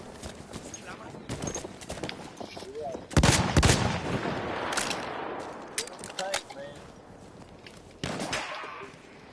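Sharp bursts of video game gunfire crack out in the middle and again near the end, with rustling movement and scattered game noises between the shots.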